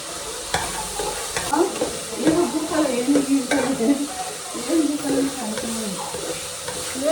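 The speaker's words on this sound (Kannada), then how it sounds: "ಒಗ್ಗರಣೆಗೆ ಆ ಬೇಳೆಗಳನ್ನ ಹಾಕ್ಬಿಟ್ಟು ಫ್ರೈ ಮಾಡ್ಕೋಬೇಕು" Lentils sizzle and crackle in hot oil while a spoon stirs and scrapes the pan, with intermittent clatters and a faint voice nearby.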